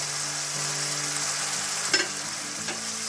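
Tamarind powder and sugar sizzle and fry in a pan for tamarind chutney, a constant close crackling hiss, with a spoon stirring through it and a couple of soft scrapes.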